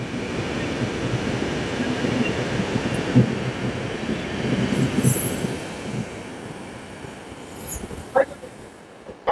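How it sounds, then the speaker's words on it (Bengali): Howrah–Mumbai Mail train pulling away from Parasnath station platform, a steady broadband rumble of wheels and carriages rolling past, with occasional higher metallic squeals and clanks toward the end; a voice speaks faintly over it. "এই যে ট্রেন হাওড়া মুম্বাই মেল, আমাদেরকে পরেশনাথ স্টেশনে ড্রপ করে দিয়ে চলে যাচ্ছে তার গন্তব্যের পথে"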